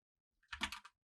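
A computer keyboard is typed on in one short, quiet burst of rapid clicking keystrokes, lasting about half a second, alone after near silence.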